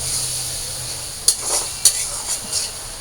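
Spice paste fries in a pan with a steady sizzle while a spoon stirs through it, giving two sharp scrapes against the pan and a few softer stirring strokes.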